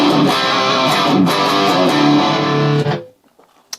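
A loud, distorted Gibson electric guitar through a Marshall JMP amplifier plays dense chords and notes for about three seconds, then cuts off abruptly into near silence.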